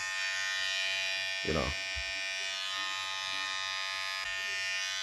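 A battery-powered electric hair clipper runs steadily with a bright, close, even buzz throughout, with a brief lower rumble partway through.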